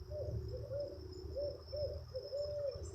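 An owl perched in a tree about 100 feet away gives soft, low hooting calls, several repeated coos in an irregular rhythm, faint and distant over quiet background hiss.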